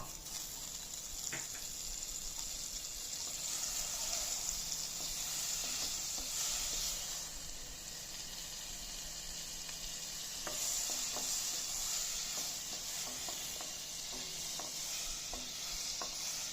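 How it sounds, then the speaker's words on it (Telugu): Butter melts in a frying pan with a soft continuous sizzle and occasional stirring clicks, fairly quiet and steady without talk. "ఇప్పుడు ఒక పాన్ తీసుకొని అందులో బటర్ని యాడ్ చేసుకోవాలి."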